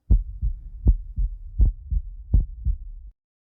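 A heartbeat sound effect in an audio drama thumps in a steady lub-dub rhythm of about four and a half deep, close double beats, then stops abruptly into silence.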